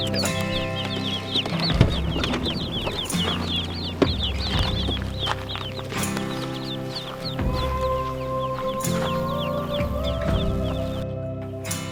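Chicks and ducklings in a brooder cheep continuously at close range, with shrill overlapping peeps and a busy, steady chorus that runs throughout over low background noise.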